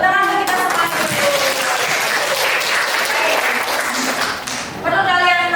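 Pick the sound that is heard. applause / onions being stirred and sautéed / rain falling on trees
applause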